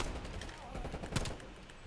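Gunfire in the video game Call of Duty: Black Ops Cold War, dense rapid shots in a quiet, distant-sounding mix with a faint voice underneath.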